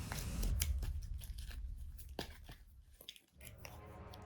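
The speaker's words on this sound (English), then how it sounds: "let's shuffle up the loot deck and see what he finds" Cards from a loot deck in a tabletop board game being shuffled, a close, crisp run of papery riffling and tapping bursts over about four seconds, with no talking.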